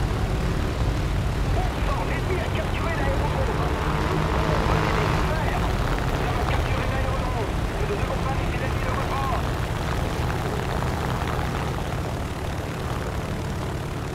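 A propeller airplane engine drones continuously in the combat flight game War Thunder, a loud, steady roar that fills the whole stretch beneath someone talking.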